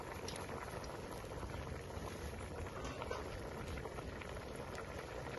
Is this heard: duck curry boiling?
yes